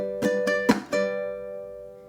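Ukulele chuck made on an upward strum: a few quick percussive strums, one muted chunk, then a bright chord ringing out and fading, close and unaccompanied.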